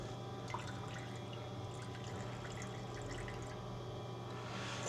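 Fuel drains from an Ariens 926LE snow blower in a thin, steady trickle with faint drips. The sound is continuous and fairly quiet over a low hum, with no talking.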